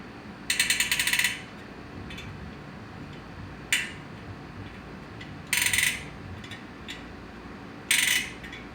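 Spokes on a BMX bicycle wheel being adjusted with a spoke tool, giving four short bursts of metallic ratcheting clicks, close and fairly loud, separated by quiet pauses with no talk.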